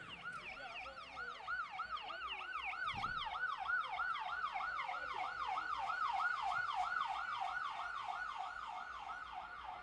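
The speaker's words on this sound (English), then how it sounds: "Ambulance, ambulance, ambulance, ambulance, ambulance, ambulance, ambulance. Clear the side, clear the side." An ambulance siren wails steadily in a rapid rising-and-falling pattern, moderately distant, with faint traffic noise beneath and no talking.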